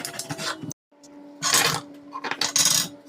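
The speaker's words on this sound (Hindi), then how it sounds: "सो अब हम इनको चॉप करते हैं, फिर एक एक करके फ्राई करते हैं।" Knife chopping eggplant, potato, onion and tomatoes on a board for a potato and eggplant bharta, a close, loud run of scraping and clacking cuts in quick bursts with a brief pause.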